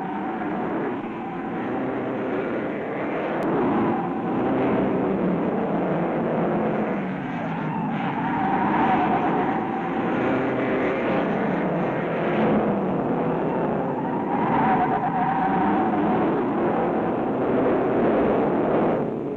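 A 1950 BRM V16 1.5 litre racing car pulls away from the pits with a loud, steady engine roar that holds for the whole stretch, rising and swelling slightly in waves like a close pass.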